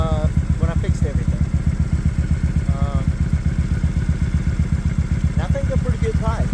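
A Kawasaki Voyager VN1700 idles through SharkRoads true dual exhaust pipes, with a deep, loud, steady loping throb up close and someone talking over it now and then.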